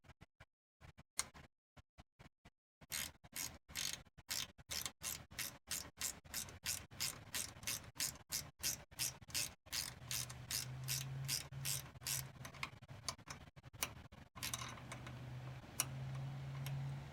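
A ratchet tightening a 10 mm bolt on a Mercedes-Benz Sprinter hood strut bracket, a long series of close, rapid clicking pawl strokes in regular bursts, with a faint low hum in the later part.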